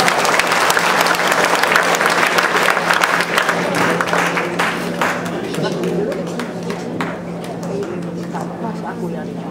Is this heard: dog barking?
no